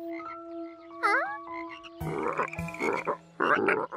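Noisy frogs at a lake lagoon in a children's cartoon, a steady tone and quick rising call followed by repeated raspy croaks in rhythmic bursts, fairly close and without speech.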